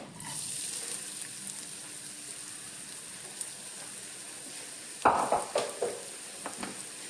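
Grated coconut roasting in a spoonful of ghee in a pan, with a soft steady sizzle, then a few louder scraping stirs near the end.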